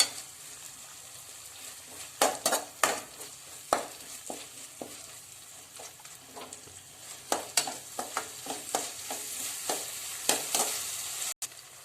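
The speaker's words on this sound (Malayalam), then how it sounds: "ഇനി നമ്മൾ ഇഞ്ചിയും വെളുത്തുള്ളിയും പേസ്റ്റ് ഇട്ട് കൊടുക്കാം കേട്ടോ" Ginger garlic paste frying and being stirred in a pan for egg curry, with a steady sizzle and repeated sharp scraping strokes of a spoon, close and alone with no talk.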